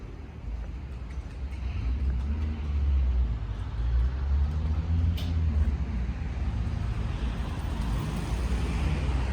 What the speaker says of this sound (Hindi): गाड़ियों की आवाज़ बहुत आ रही है